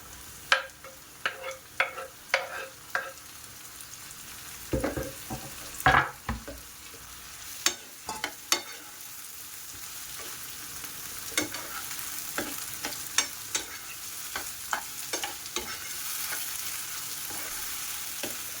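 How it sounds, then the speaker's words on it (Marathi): Finely chopped tomato goes into half-cooked onions frying in a pan for soybean keema. A steady sizzle runs underneath a series of sharp spoon scrapes and taps, close and clear, with no voices. "त्याच्यात मी हा फाईन चॉप केलेला टोमॅटो आहे, हा मी ह्याच्यात आता टाकते"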